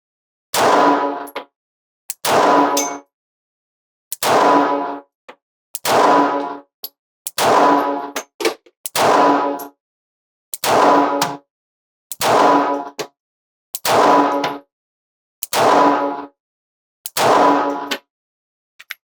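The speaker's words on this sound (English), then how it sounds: "Let's do our first magazines through these firearms at the center mass of our target." A Springfield Hellcat .380 pistol is fired at a target at a slow, measured pace, about a dozen loud, sharp shots spaced roughly evenly, each followed by a short ring-out.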